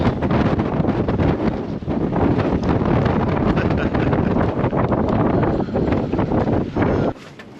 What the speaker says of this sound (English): There's a windy morning sunrise.